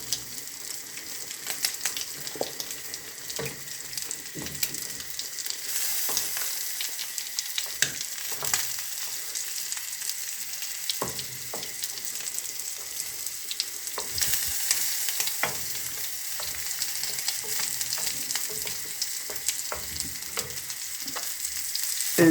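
Ratatouille with a little tomato purée frying in a pan, a bright continuous sizzle with soft intermittent stirring and scraping throughout, steady and close, without voices.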